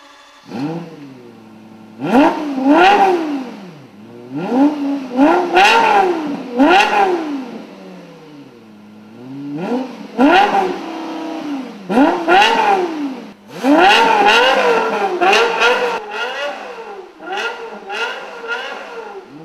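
A Toyota car engine revs repeatedly up and down, each rise a sharp, rising howl that quickly falls away, with bursts clustering faster toward the end, loud and close.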